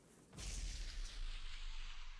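A cannon blast in World of Warcraft during a Mekkatorque raid fight, a sudden booming onset followed by a sustained rumbling roar that fades slowly.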